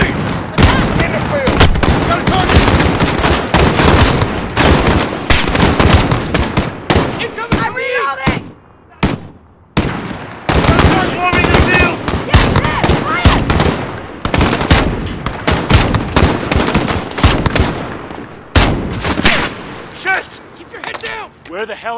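Rapid bursts of machine gun fire rattle loud and close in Call of Duty: Modern Warfare (2019), sustained volleys with brief lulls, mixed with shouted voices during a nighttime embassy battle.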